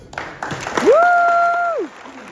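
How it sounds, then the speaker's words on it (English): Applause from an audience at a school remodeling ribbon cutting, scattered claps under a loud, drawn-out whooping cry that rises, holds steady and falls away near the end. "we're going to give lots of rounds of applause"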